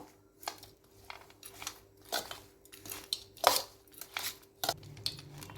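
Curry leaves rice gets stirred and mixed in a metal pan, producing repeated scraping and clinking utensil strokes in an uneven rhythm, close up with no talking.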